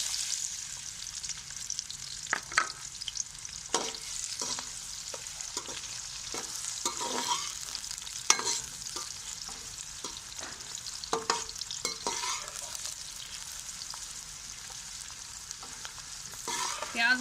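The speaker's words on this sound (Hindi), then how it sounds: "इसी घी में हम प्याज डाल देंगे।" Sliced onions sizzle steadily in hot ghee left over from frying okra, with brief scraping stirs from a spoon at irregular intervals over a continuous hiss, alone without talk.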